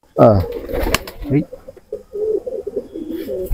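Pigeons kept indoors in a two-storey village house, giving low throaty coos close by, overlapping a voice speaking nearby.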